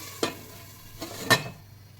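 Prawns roasting in AMC fatless cookware give a soft steady sizzle, broken by a few sharp scraping clatters as they are turned, close and with no talk.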